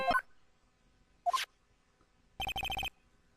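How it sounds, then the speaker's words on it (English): Phone ringtone from the video game Phoenix Wright: Justice for All, a short chirpy synthesized jingle followed by a quick burst of rapid repeated electronic beeps, clear and isolated against quiet. "What is with this stupid sounding ringtone?"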